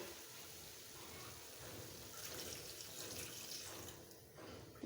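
Broth is poured into a pan of sautéed drumsticks for a thin rohu fish curry, giving a soft, steady splashing and trickling that stays faint and continuous, with no talk.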